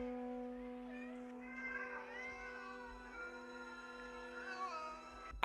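Several cats meowing in overlapping, drawn-out calls, fairly quiet, with a steady low hum underneath.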